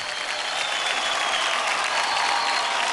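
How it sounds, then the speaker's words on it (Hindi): A studio audience applauds after a dance performance on a televised children's dance competition, dense, even clapping from a large crowd that holds steady and loud for the whole stretch. "तालियां हो जाए अनुदिता के लिए"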